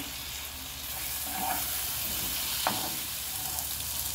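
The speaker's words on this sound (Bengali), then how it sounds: "এতে টমেটো দিলাম, 2 মিনিট ফ্রাই করব টমেটো দিয়ে।" Tomatoes and fried potatoes fry in hot oil over a medium flame for aar macher jhal, making a loud, continuous, close sizzle. One sharp clink of a utensil cuts through it.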